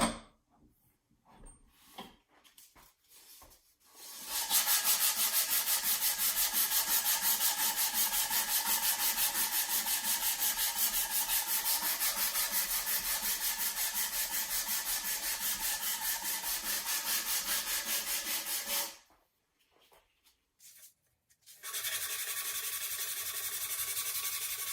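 A rattan SCA sword is sanded in a long, steady, continuous rasping rub that is close and fairly loud, running for about fifteen seconds before stopping, with brief scrapes before and after.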